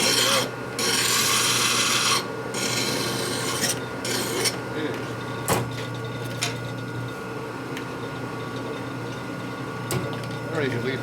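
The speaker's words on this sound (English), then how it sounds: "This hasn't been deburred yet, so deburr a little bit." Hand file rasping in steady strokes across the end of a steel fork tube for a 1957 Harley panhead drag bike, close and fairly loud, with a few sharp knocks and a constant hum underneath.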